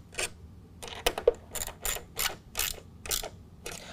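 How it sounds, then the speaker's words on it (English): Close ratchet clicks as flange nuts are snugged down on a Putco Luminix LED emblem being fitted to a Ford F-150, heard as a run of about ten quick, evenly spaced bursts. "Next, we're going to go ahead and install our provided flange nuts. We're going to get those nice and snug,"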